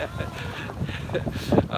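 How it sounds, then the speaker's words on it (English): Gusty wind roars across the microphone in uneven bursts, with a voice faintly mixed in underneath. "Oh, it's windy."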